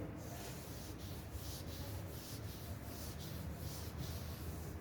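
Writing is rubbed off a board during a physics lesson, heard as soft, continuous scrubbing with faint rhythmic back-and-forth strokes, quiet and close, with no talking.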